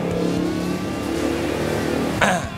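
Custom cruiser motorcycle engine revving in a custom bike workshop, a steady mid-pitched rumble with rising rev tones held close and loud, ending in a brief sharp clatter.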